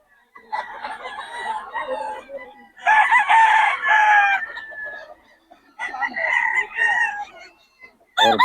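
A stag rooster at a cockfowl market in Bocaue crows repeatedly and loudly, with three long bursts separated by short pauses, with a few clucks.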